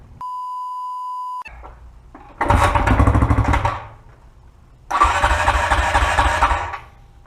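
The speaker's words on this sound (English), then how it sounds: "Alright, finally got the dirt bike started and it blew it right out." Dirt bike engine cranking and firing in two loud bursts, each roaring for a couple of seconds before cutting off, after a steady electronic beep at the start; no talking.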